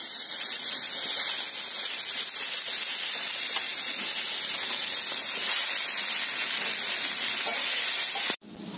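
Banana flower tipped into a hot pan with chilli powder and green chillies gives a loud, continuous sizzle that holds steady throughout, then cuts off abruptly near the end.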